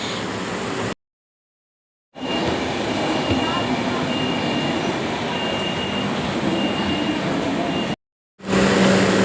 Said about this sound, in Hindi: तो बस अल्हम्दुलिल्लाह मीरा रोड की भी ट्रेन हमें मिल गई।